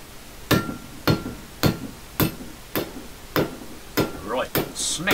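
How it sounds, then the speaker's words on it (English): Hammer smacking steel sheet to bend it while building a wood cook stove burner, about eight sharp, ringing blows in a steady rhythm, close and loud. "Smack with a hammer to bend that."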